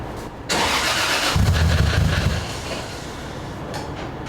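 A loud engine on a dynamometer cranks and catches, then settles into a steady rumbling idle with a broad mechanical roar.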